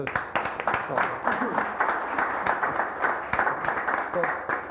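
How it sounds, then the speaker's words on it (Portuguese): Audience at a regional business forum clapping in a steady, moderately dense patter, with some voices murmuring underneath. "Uma salva de palmas para a Beatriz."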